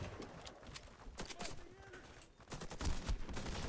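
Rapid gunfire from shooting bots in the online shooter Warface, with bursts of shots scattered through the clip and heavier blasts near the end, mixed with game noise.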